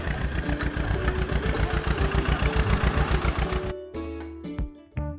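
A tractor engine running in a cartoon, a rapid, even chugging pulse held steady for a few seconds before breaking into a few irregular knocks and sputters, fairly loud and with no talking.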